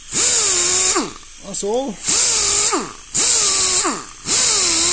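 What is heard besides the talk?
die grinder sharpening hedge trimmer blade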